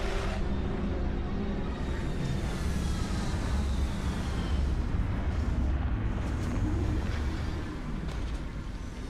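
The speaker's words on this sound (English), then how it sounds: "retros firing" Retro rockets firing as a spaceship lands in Starfield, a dense continuous roaring rumble sustained and loud for the whole stretch, with faint whistling tones on top.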